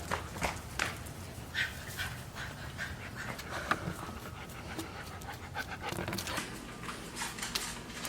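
A puppy pants rapidly and steadily nearby, with soft snuffles and small whimpers mixed into the quick breathing.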